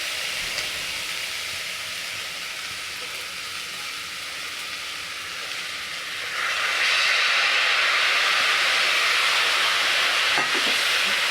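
Washed rice is sautéed in a pan for soybean vegetable biryani, first a soft steady sizzle, then a louder, brighter hiss about halfway through that stays to the end.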